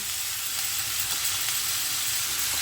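Malabar spinach (pui) leaves fry in a hot pan, giving a loud, continuous, even sizzle up close with no talk over it.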